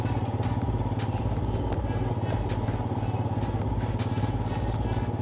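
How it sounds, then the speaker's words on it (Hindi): A Royal Enfield Himalayan motorcycle rides off-road on a Leh-Ladakh trip, its engine thumping steadily under rattling and clattering from the rough track, close and continuous. "वैसे हमने जो बाइक ली है रॉयल एनफील्ड हिमालयन"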